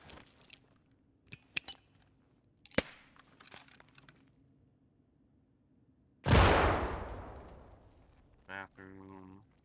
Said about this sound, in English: So we're gonna throw a nade to find out.